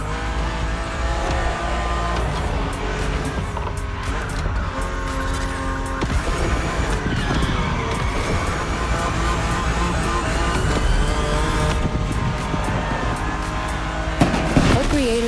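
BMW HyperDrive car in The Crew Motorfest driving steadily on an open road, a continuous loud engine drone with shifting pitch and some tire noise, unbroken throughout with a brief bump near the end.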